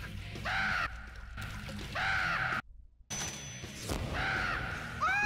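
A crow caws repeatedly in a TV show, harsh nasal calls in separate bursts with short gaps and a moment of near silence partway through.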